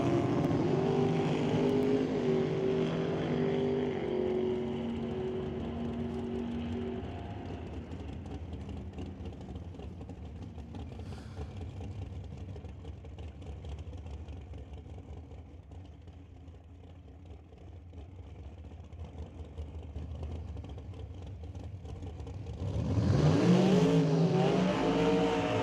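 At an NHRA drag race, a stretched 1967 fastback Mustang with 700 cubic inches and a big block Chevy dragster roar off, loud engine drone fading over the run, then another engine revs sharply near the end.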